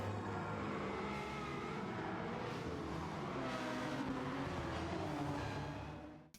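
A Ferrari F40 with a swapped Enzo V12 engine drives the Nürburgring in Gran Turismo 7, giving a continuous, sustained engine roar with shifting tones that holds steady and then cuts off abruptly at the end.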